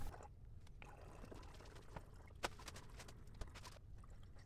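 Purified water poured into the cooling tube of a laser cutter with its power off and pump stopped, a quiet, steady trickle with a few soft splashes, faint and close.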